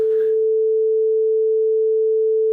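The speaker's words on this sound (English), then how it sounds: "440 hertz sine wave" A 440 hertz sine wave test tone, a steady pure pitch holding loud and unwavering for the whole stretch after a brief faint noise at the start, no speech.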